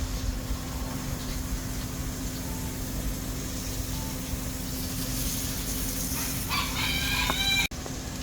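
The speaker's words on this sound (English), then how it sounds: "those are chickens" Chickens cluck softly in the background at a market in Kochi, Japan, then a rooster crows loudly near the end, over a constant farmyard hum.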